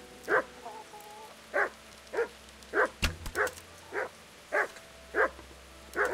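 A dog in the video game Kingdom Come: Deliverance barks repeatedly at a steady pace, about ten sharp, mid-distance barks over a low ambient hum, with a brief thud partway through.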